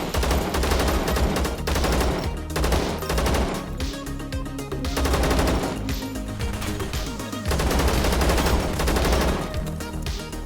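A rifle chambered in .308 fires in the video game Zero Sievert. The loud, rapid bursts of shots come in three long strings with short pauses between them, and no one talks.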